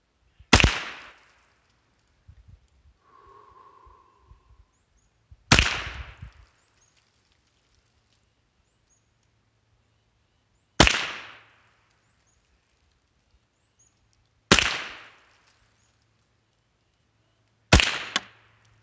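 A Savage 62F .22 rifle fires five rounds of CCI Standard ammunition outdoors, sharp loud cracks spaced several seconds apart with short decaying echoes and near silence between shots.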